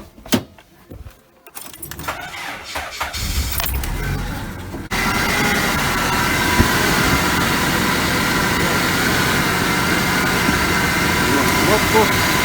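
Car with electronic ignition, fitted with a strobe timing light hung near the first spark plug well. Keys jangle quietly before the engine fires up loudly about five seconds in and settles into a steady, even idle.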